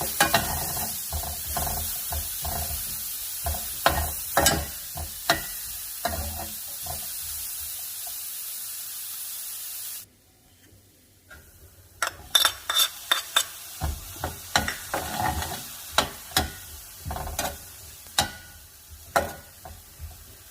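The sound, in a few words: sautéing onion and jalapeño in a pan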